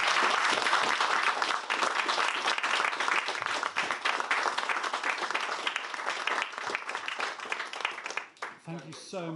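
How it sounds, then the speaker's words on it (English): Applause at a London animation club talk fills most of the stretch as a loud, dense clatter of many hands, thinning out toward the end, when a voice begins speaking. "can we have a massive round of applause for Phil Davies?"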